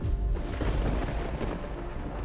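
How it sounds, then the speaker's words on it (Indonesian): Rumbling thunderstorm in a dramatic scene, a deep continuous low roar of thunder and storm noise filling the whole short stretch, loud and steady with no voices. "Kok badai ya?"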